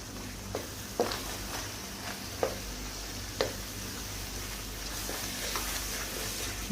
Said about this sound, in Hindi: अब आपने फ्लेम स्लो रखनी है और स्लो फ्लेम के ऊपर आपने इसको मिक्स करना है